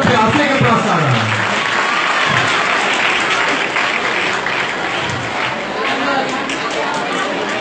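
An audience at a residential school program in India claps loudly and continuously, a dense wash of applause with voices mixed in throughout.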